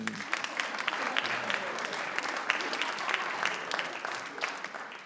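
Crowd applause at an Italian stand-up comedy show, a steady wash of clapping at moderate distance with scattered sharper claps throughout.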